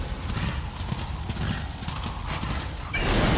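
Galloping horse hooves in the Darksiders action video game, a fast steady clip-clop rhythm heard close and loud, with a neigh rising near the end.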